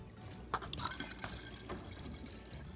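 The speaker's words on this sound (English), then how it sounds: "Now we'll start scooping it in with the ladle." Boiled-down maple syrup is ladled through a strainer, giving soft irregular drips, splashes and liquid trickles at close range, fairly quiet, with no talking.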